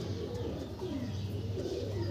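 Pigeons in a loft coo softly and repeatedly against a steady background hum, the low calls faint and somewhat distant, with no talking.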